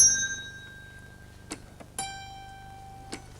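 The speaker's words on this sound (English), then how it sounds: "I've got a whole set of bells" Small bells in an antique electromechanical zither-playing automaton ring out one after another, each struck tone clear and sustained, with a few light knocks between strikes in an otherwise quiet room.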